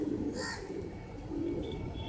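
Pigeons coo softly amid steady outdoor street ambience in Bandra, Mumbai, low murmuring calls blending into a constant background hum with a few faint chirps.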